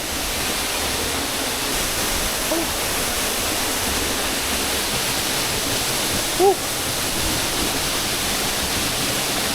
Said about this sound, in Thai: น้ำตกเจ็ดคดใหญ่